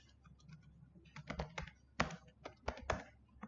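Someone types on a computer keyboard close by, starting with sparse light taps and building to brisk bursts of sharp clicks, without speech.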